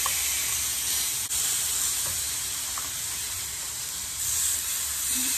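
Steady hiss of a gas torch flame held over pork ribs being grilled, a continuous close broadband rush running throughout with no talking.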